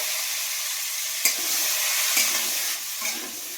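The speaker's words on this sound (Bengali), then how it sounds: "পেঁয়াজটাকে আমি একটু ভালো করে ভেজে নিই।" Sliced onions frying in hot oil in a pan while cooking an egg chicken curry: a steady, bright sizzle fills the clip, with a few soft scraping stirs, close by and without speech.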